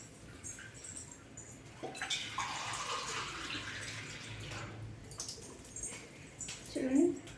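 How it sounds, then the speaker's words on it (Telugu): Water poured from a glass into a pot of rice, two glasses for one of rice, while making village-style bagara rice: a soft splash and trickle that swells mid-clip, then fades, with quiet background noise. "వాటర్ యాడ్ చేసుకోవాలి"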